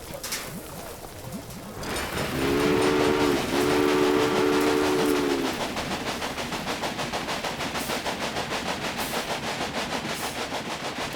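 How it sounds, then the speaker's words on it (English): Locomotive running in the PC game Railway Empire, a steady rhythmic rolling clatter with a two-tone horn blast sounding for a few seconds early on, then continuous chugging to the end. "Now you can see the journey your train will take."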